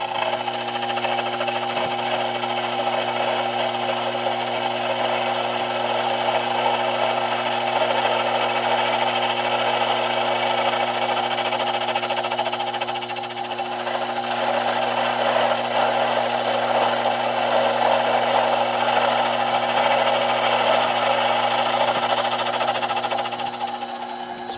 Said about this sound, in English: here we'll do a 10/1000 cut with the high-speed steel cutter